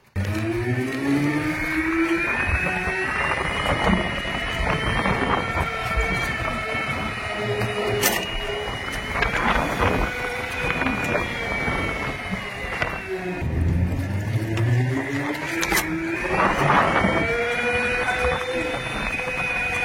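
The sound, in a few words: motor sound of a Vida VX2 electric scooter while riding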